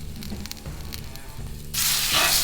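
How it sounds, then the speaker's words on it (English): A ribeye steak hits hot oil on a Blackstone griddle, and a loud, broad sizzle bursts up about two-thirds of the way through. Before it, only low kitchen noise is heard. "We want that high heat. Get that immediate sear."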